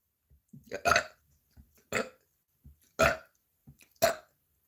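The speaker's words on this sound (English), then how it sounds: "Look, I'm about to start belching." A person belches repeatedly, four loud, deep burps spaced about a second apart, close to the microphone with short quiet gaps between them.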